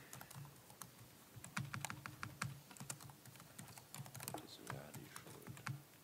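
Rapid clicking of a computer keyboard in irregular bursts, close and fairly faint, with a voice speaking softly underneath in a meeting setting.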